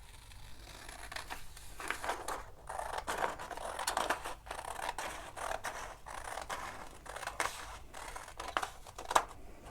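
Scissors snip through a paper page for a homemade AAC communication book, a close, moderately loud run of crisp cutting and rustling strokes repeating unevenly for about ten seconds.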